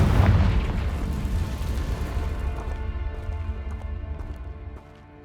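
A Confringo blasting spell going off in Hogwarts Legacy, a deep booming burst up front whose rumbling tail fades over several seconds with faint crackles of debris.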